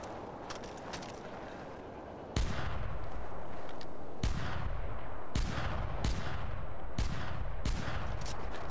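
About six heavy revolver shots boom out in Far Cry 4, spaced a second or so apart after a stretch of steady background game ambience; each blast is loud, sharp and close.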